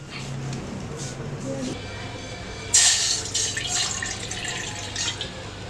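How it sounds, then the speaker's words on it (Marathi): A bowl of water poured into a pan to start a sugar syrup, a brief splashing pour that rises suddenly and then trickles off, with someone talking nearby. "1 वाटी पाणी टाकलं मी"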